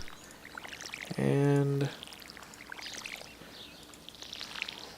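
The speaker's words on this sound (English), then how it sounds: "I'm just going to go ahead and water all of it" Watering crops with a watering can in the Stardew Valley video game gives a soft pouring, trickling water sound, faint and low under a voice talking through it.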